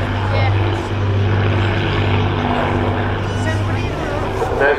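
Propeller aircraft at an airshow, a loud steady engine drone with a low hum that continues throughout, while a voice talks over it.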